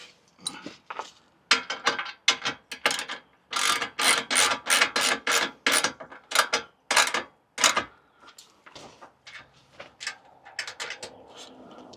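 A wrench tightens the step side bolts on a 2024 Chevy Colorado Trail Boss, a near, loud series of quick ratcheting clicks in bursts with short pauses, then quieter clinks of metal toward the end.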